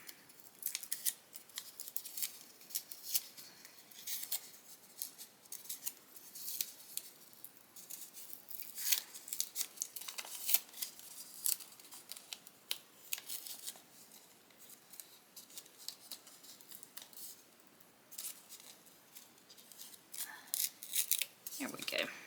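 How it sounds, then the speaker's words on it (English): Scissors snip through sticker paper at a crafting table in a run of quiet, close, irregular cuts that go on steadily for the whole stretch. "I might have to cut that sticker paper."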